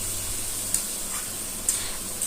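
Prawns with fried potato and pointed gourd sizzling in a pan for a Bengali curry, a steady soft frying hiss broken by a few light scraping stirs of a spoon, close and moderately quiet.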